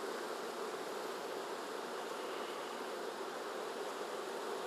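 A dense clump of honey bees on a hive frame during a queen search, buzzing in a steady, close, unbroken drone with no pauses and no talk.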